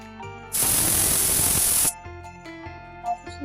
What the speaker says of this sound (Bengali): দু থেকে তিনটা সিটি দেব